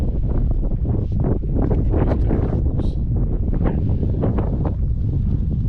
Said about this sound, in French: Le vent est dingue.